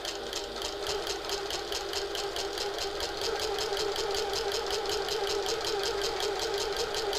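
A sewing machine top stitches a handbag with a steady, fast mechanical whir and regular rapid needle clatter, running continuously at low volume without any talk.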